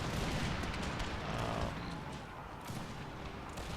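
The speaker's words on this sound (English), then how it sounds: "I'm going to open fire with the Grenadiers there" Grenadiers fire a musket volley in the Empire: Total War battle game, a dense rolling crackle of many shots merging into one burst, then fading into a lower battlefield rumble.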